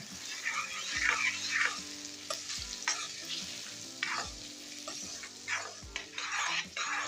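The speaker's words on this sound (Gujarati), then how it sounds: "આ રીતના આપણે એને સતત હલાવી અને એકદમ ગ્રેવી જેવી થાય ને ત્યાં લગી એને ચડવા દેવાની છે" Onions frying in plenty of oil over a low flame for a green chickpea curry, stirred steadily, giving a continuous soft sizzle with repeated spatula scrapes against the pan and a faint steady tonal hum underneath; no talking.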